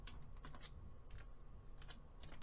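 Quiet keystrokes on a computer keyboard during accounting data entry come in small, irregular bursts of clicks, close and soft, with no talking.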